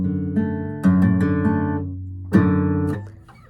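Close acoustic guitar plays a short chord progression, with two strummed chords each left to ring and decay, plus a few lighter plucked notes in between.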